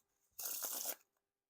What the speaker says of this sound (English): So pretty good for the riffle shuffles and bridge shuffles there.